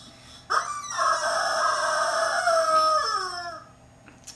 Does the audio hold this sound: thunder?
no